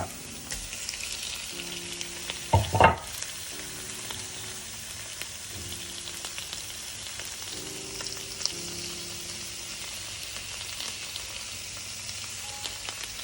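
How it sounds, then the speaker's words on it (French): Chicken livers added to lightly browned onions frying in a pan, a steady low sizzle with a loud clattering splash as they go in, followed by short tonal hums, no talking. "C'est le moment d'ajouter mes foies de volaille dans la poêle."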